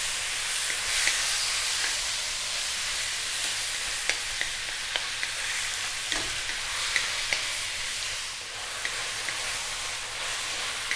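Chicken sautéing in a pan for a Filipino dish of taro leaves, a steady close sizzle and hiss with light, scattered scrapes and clicks from stirring.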